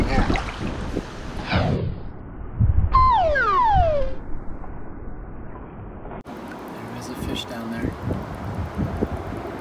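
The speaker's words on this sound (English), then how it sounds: "It's so windy. Leaves are flying in the air." Strong wind blows across a lake during a fishing trip, with leaves flying, a rough gusty rumble buffeting the microphone, while a person talks over it in places.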